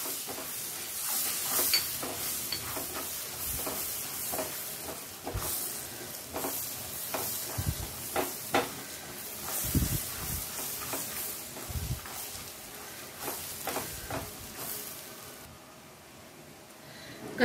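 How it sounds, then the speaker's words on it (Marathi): Onion frying in oil left over from frying prawns, stirred in a pan with a steady sizzle and repeated scraping strokes, close and moderately loud with no voice. "कांदा चांगला परतून घ्यायचा आहे।"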